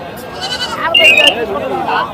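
Goats and kids bleat at the weekly livestock market in Gudur, with a couple of wavering, nasal bleats rising over a background of crowd chatter and people talking nearby.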